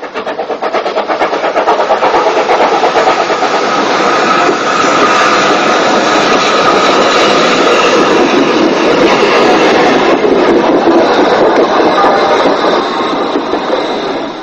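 Adams radial tank steam locomotive number 2650 arrives at Sheffield Park on the Bluebell line, a loud, continuous rolling rumble of wheels and coaches close by, steady throughout without pause.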